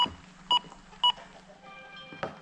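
Several short electronic beeps from a Mighty Mule FM136 wireless intercom keypad, two bright tones spaced about half a second apart, then a softer tone and a final blip over faint background hum.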